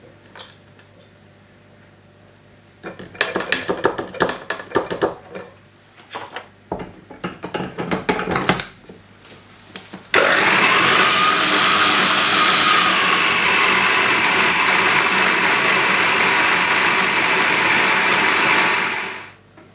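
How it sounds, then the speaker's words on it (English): A food processor mixes tahini and lemon juice for hummus, starting with clattering bursts and scraping, then settling into a loud, steady whirring drone that runs for several seconds before cutting off. "Add tahini and lemon juice to the food processor and mix for 1 minute"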